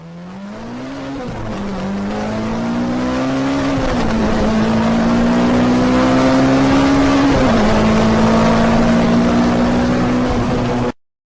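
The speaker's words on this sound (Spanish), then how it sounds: "Camión." Truck: a loud, close engine roar holds a steady, slightly rising pitch with a couple of gear-shift dips, growing louder and then stopping abruptly.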